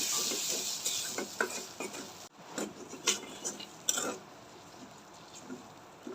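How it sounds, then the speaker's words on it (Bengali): Peas filling being sautéed with salt in a pan for kachori, soft frying hiss with scattered stirring scrapes and light clinks of a utensil against the pan, steady and close with a brief pause midway. "পরিমাণ মতো লবণ দিয়ে ভালো করে কষাই নিব"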